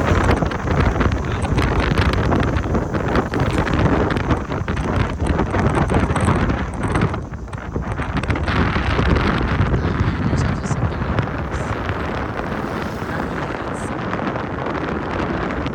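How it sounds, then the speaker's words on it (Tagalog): Strong wind roars steadily across the microphone for the whole stretch, loud low rumbling buffeting with no pauses. "Hangin guys"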